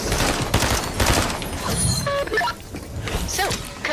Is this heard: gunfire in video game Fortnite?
yes